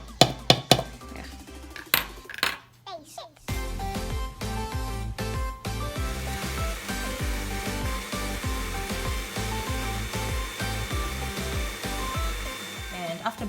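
A blender whirs steadily through pesto ingredients with a tablespoon of garlic, salt and pepper, a loud continuous motor drone after a few clattering bumps at the start.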